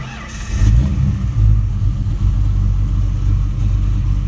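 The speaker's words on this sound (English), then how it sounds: "now we'll do a hot start" Car engine with a newly installed Comp Cam XE274HR camshaft hot-starting, cranking briefly then catching into a loud, close, lumpy rumbling idle that holds steady.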